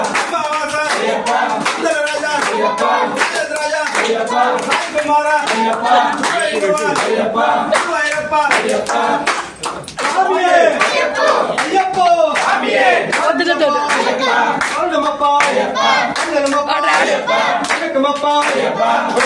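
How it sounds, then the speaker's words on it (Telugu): People clap in steady rhythm along with a sung Ayyappa Swamy devotional aarti song, sharp evenly spaced claps mixed with voices singing throughout, with a brief dip midway. "క్లాప్స్ కొట్టు"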